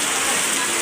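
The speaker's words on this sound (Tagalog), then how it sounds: "lakas ng ulan" Heavy rain pours down in a steady, dense hiss during All Saints Day, close and continuous with no breaks.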